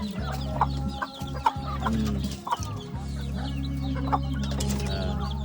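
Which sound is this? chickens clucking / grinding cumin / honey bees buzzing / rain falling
chickens clucking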